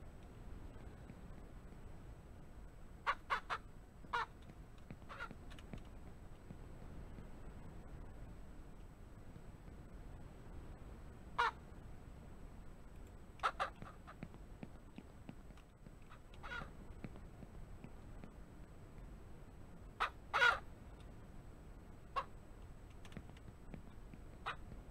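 Chickens in a coop in the farming game Ranch Simulator give a few sparse, short, faint clucks and squawks spread across a quiet stretch with no talking.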